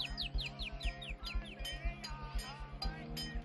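Small birds chirp in quick, repeated bright tweets at a street seller's stall in an old-town market, over a rhythmic low thumping and busy background murmur.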